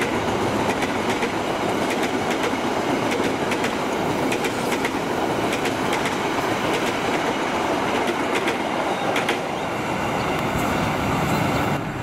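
Bima passenger train from Jakarta passing at Bekasi Timur, a steady loud roar of rolling coaches with rhythmic clickety-clack of wheels over rail joints and faint squeal, continuous for the whole stretch with no voices.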